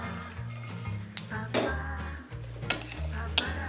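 Peanuts roasting in a pan, stirred with repeated scraping and rattling strokes over a steady low hum and faint sizzle, close and fairly loud.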